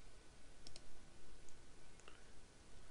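A computer mouse clicks on an article link, a few sharp, faint clicks spaced out over a steady background hiss, with no talking.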